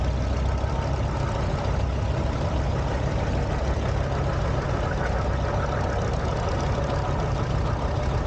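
A 1948 Farmall M tractor runs at a show, its engine chugging steadily at a low, even idle with a rough knocking pulse and no voices over it.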